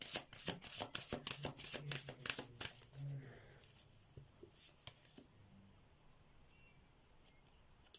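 Tarot cards from the Andromeda Skies deck are shuffled in a rapid flurry of crisp riffling snaps close by, which slows to a few scattered soft card sounds and quiet handling before fading out.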